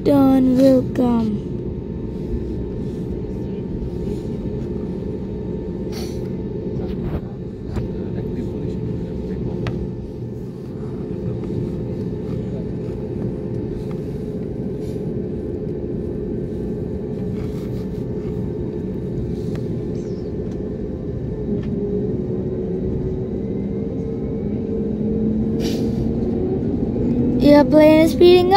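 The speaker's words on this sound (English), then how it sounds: "The plane is speeding up and take" An airplane speeding up on the runway for takeoff, heard from inside the cabin as a steady deep engine rumble and drone that swells louder toward the end, with faint voices and small knocks.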